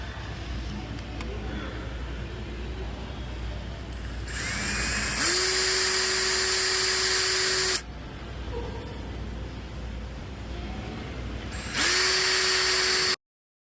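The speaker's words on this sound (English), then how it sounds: "so once you are drilled" A power drill bores into a metal bracket mount on a Honda CR-V, whining in two sustained bursts of about three and two seconds, each rising in pitch as it spins up, over steady background noise.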